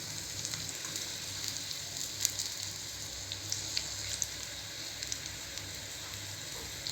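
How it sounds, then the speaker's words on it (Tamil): Chili bajji fritters deep frying in hot oil, a faint, steady bubbling sizzle with scattered light crackles, heard alone. "நல்ல ஒரு ப்ரௌனிஷ் கலர் வர வரைக்கும் நல்லா ஃப்ரை ஆகட்டும்."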